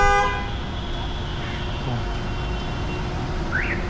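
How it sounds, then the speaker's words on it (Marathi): A food-delivery rider's motorbike horn gives one brief toot at the start, heard on a road in Navi Mumbai. After it, steady traffic and engine rumble carry on with no voices. "बोला फोनला हॉर्न देतो"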